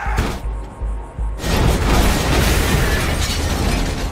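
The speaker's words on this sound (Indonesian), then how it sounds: "tiba-tiba saja mobil itu justru meledak dan melukai sang ayah" A car explodes in a scene from the Tulsa King TV series: a sudden loud blast with shattering debris, followed by a sustained roaring rumble of fire and wreckage.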